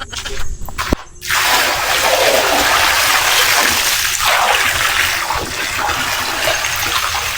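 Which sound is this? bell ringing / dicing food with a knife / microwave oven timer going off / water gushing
water gushing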